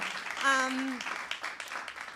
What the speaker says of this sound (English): I know we're clapping again